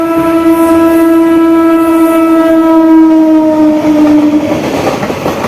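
A long, loud train horn sounds steadily for several seconds as the Lalgola train enters the station, its tone sagging slightly near the end before giving way to rail clatter.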